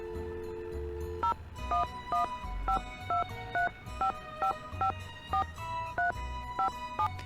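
A telephone dialed in the Nancy Drew game The Phantom of Venice: a quick series of about a dozen clear dual-tone keypad beeps, irregularly spaced, over faint background music.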